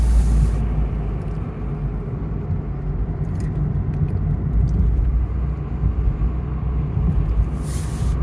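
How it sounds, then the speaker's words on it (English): A car driving along a small mountain road in the Smoky Mountains, heard from inside as a steady low engine and road rumble with constant tire noise throughout. "Okay, I'm just driving along. Just left my house, headed for town."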